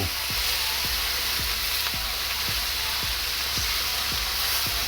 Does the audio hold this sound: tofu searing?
yes